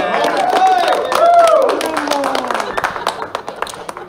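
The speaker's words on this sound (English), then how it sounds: "please give a round of applause to female Mrs. Kelly Slay" Audience applause at a poker tournament final table, clapping rising under a voice and crowd noise, then thinning into scattered individual claps toward the end.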